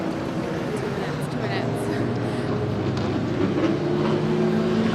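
A race car engine drones steadily at the Brands Hatch circuit, a sustained tonal whine heard at a distance, with a commentator talking over it throughout.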